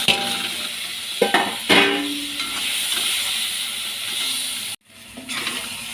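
Tomatoes sautéing in hot oil with ginger and garlic in a pan, a loud steady hiss with a few clanks of a stirring spoon and a brief sharp break near the end.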